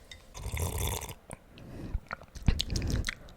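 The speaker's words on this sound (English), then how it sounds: "I thought if I gave a little slurp, maybe that would give some good sounds" Wet, close-up mouth noises of sipping and slurping liquid, a longer slurp at first followed by a few shorter gulps and smacks.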